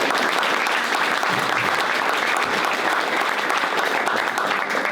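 Audience at an awards ceremony breaks into sustained applause, a dense, loud wash of clapping from many hands that holds steady throughout.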